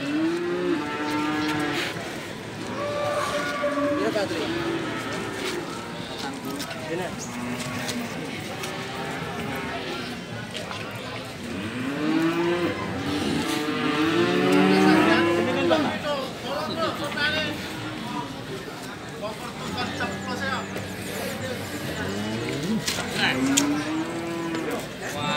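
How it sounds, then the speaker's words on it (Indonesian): Limousin cattle moo over and over at the Pacitan cattle market, several close, drawn-out calls rising and falling, while people talk and a crowd babbles continuously around them. "Ini sapi teristimewa kali ini di Pasar Sapi Pacitan Lur."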